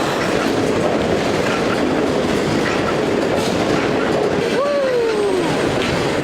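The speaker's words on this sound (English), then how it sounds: "I could have been hit by a train or something." A train rumbles steadily past at very close range, shaking the ground, a dense roar of wheels and rail noise with a brief high squeal near the end.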